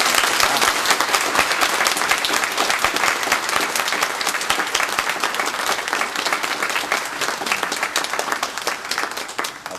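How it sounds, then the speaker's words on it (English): A church congregation at a Sunday morning worship service applauds a young woman, steady loud sustained hand clapping that fills the room throughout without letup. "let's just give her a hand clap of encouragement"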